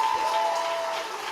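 An audience claps in a city council chamber in Garden Grove, a brief dense patter of applause from a crowd, steady then fading slightly, alone without talk.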